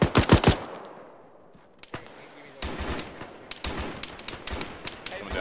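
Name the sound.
suppressing gunfire from the west in a video game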